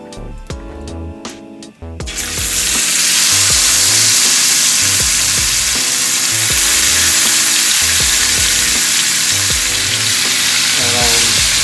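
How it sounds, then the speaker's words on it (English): Pork chops hit a hot cast iron pan and sear with a sudden loud, steady sizzle that fills the rest of the clip after a few quieter clinks and bumps at the start. "Now I'm about to sear off my pork chops."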